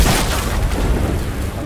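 Grenade explosion in the Fortnite video game, a single deep, dull boom with a rumbling tail that fills the short moment without any talk.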